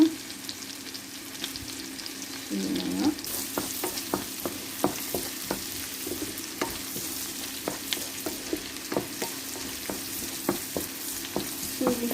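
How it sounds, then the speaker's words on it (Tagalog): Chopped onion and garlic dropped into melted butter in a pan: a steady hissing sizzle close by, broken by frequent sharp spoon taps and scrapes as it is stirred, with no voices. "Ihulog naman ng ating sibuyas at bawang guys."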